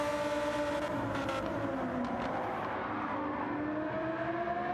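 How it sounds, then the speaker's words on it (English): A Lamborghini race car in a sim racing game slides around the Autopolis circuit, its engine wailing loud and steady with shifting pitch as the car squirms, a continuous roar with no talk. "Lamborghini sliding all over the shop"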